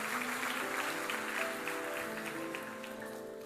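A church congregation applauds in a steady, fairly distant wash of clapping, with sustained keyboard or organ tones beneath it that fade slightly toward the end.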